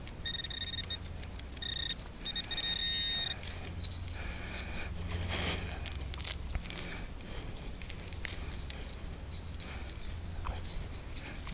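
A metal detector gives short, high electronic tones while sweeping over a buried quarter on a rainy day, the beeps coming in brief bursts early on before fading into crackling outdoor noise.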